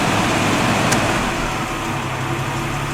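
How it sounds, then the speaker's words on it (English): A car engine idles steadily at close range after the headlights are switched off, its note settling slightly lower with a brief click early on, a constant low rumble with no talking. "listen to the idle."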